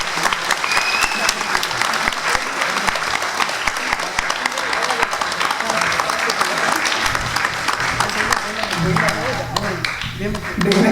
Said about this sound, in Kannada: ಜೋರಾದ ಚಪ್ಪಾಳೆ ಮುಖಾಂತರ ತಿಳಿಸಿ